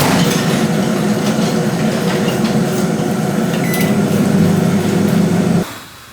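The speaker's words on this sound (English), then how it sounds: "I'm gonna try and put this in the microwave for like 20 seconds" A microwave oven heating cream of rice hums loud and steady for about five and a half seconds, then cuts off abruptly, leaving a quieter room tone.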